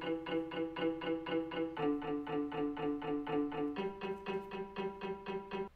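Synthesized bass notes pulse in a steady repeating rhythm beneath sustained chords, shifting pitch twice as the progression moves along.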